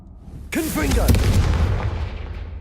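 A fire spell blast in Hogwarts Legacy: one sudden booming burst that rolls on with a crackling, rumbling tail before fading, with a brief voice-like tone at its onset.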